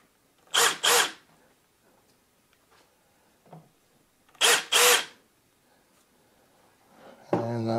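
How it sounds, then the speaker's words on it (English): Two bursts of a power tool tapping threads into a joystick base part for a Virpil VPC MongoosT-50CM2, each a short double whir, separated by quiet, with a brief voice at the end. "I already tapped this side. Now I'm gonna do this side here."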